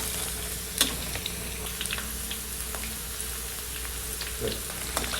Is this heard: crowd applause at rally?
no